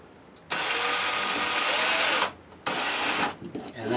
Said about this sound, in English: we're just going to put a slight little hole in the beam for the screw to screw into